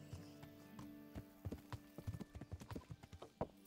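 Horse hoofbeats while riding in the medieval role-playing game Kingdom Come Deliverance: a steady, fairly close clip-clop of hooves that grows denser and louder over a sustained musical background.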